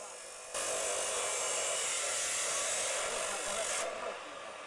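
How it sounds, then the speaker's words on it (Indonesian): A cutting machine slices through confiscated loud motorcycle exhaust pipes seized by traffic police in Tuban, East Java, giving a loud, continuous grinding whine for about three seconds before dropping back to a lower hum. "knalpot brong yang disita oleh Satlantas Polres Tuban dimusnahkan dengan cara dipotong menggunakan mesin pemotong"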